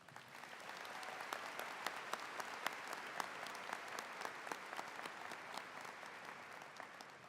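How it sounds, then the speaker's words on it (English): A large crowd at a high school graduation applauds steadily, a dense wash of clapping that holds even and sustained from start to finish. "please give the team at Seckman High School a round of applause."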